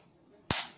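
One sharp hand clap during a dance choreography tutorial, a single crisp, close snap that rings briefly and decays over quiet background.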